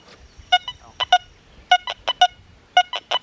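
Deus 2 metal detector with an 11x13 coil sounding over a silver ring: a quick series of short electronic beeps in irregular groups, some higher and some lower, clear and close with no talking.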